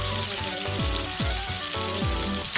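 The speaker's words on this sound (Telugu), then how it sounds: "వేగిన తర్వాత ఉల్లిపాయ పచ్చిమిరపకాయలు వేసుకుందాం. నీట్గా కలుపుకోవాలి మాడిపోకుండా." Onions and green chillies frying in hot oil for upma, a close continuous crackling sizzle with several low whooshing sweeps as the pan is stirred, no voices over it.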